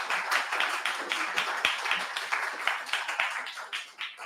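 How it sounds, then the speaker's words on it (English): A live audience at a tech panel event on data and data analytics applauds its panel guests, steady dense clapping throughout, loud and close, with no talk over it. "A huge round of applause for our guests."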